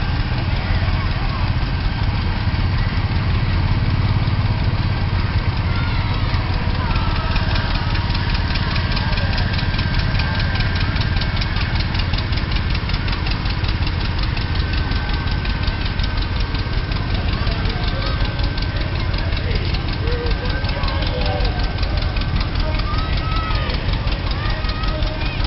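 Tractors at a fall festival parade in Mount Pulaski, Illinois idle in a steady, loud engine chug that runs throughout, with people talking over the mechanical drone.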